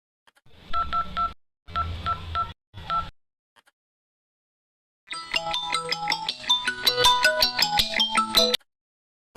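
Three short bursts of keypad tones, then a rapid run of electronic beeps from dialing, with silent gaps in between.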